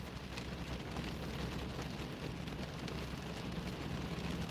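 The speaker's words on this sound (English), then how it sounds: "Gotta love all this nice rain" Rain falling steadily as a soft continuous hiss, even and unbroken, with no voices.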